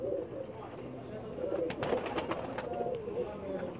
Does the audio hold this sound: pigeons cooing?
yes